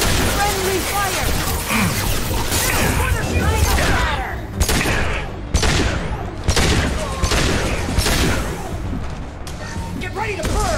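Rapid gunfire and booming weapon blasts from combat in the video game Mass Effect 2, loud bursts of shots and impacts in quick succession, with character voices calling out between the volleys.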